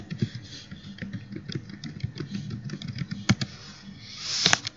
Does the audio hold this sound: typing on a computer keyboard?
yes